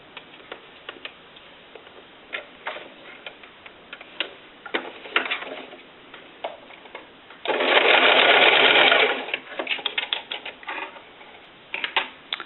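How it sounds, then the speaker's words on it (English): A sewing machine bastes a folded strap tab, looped through a D-ring, onto a clutch bag. One loud, steady whir of stitching lasts under two seconds, with soft ticks and handling clicks before and after it. "you're just going to baste this in place"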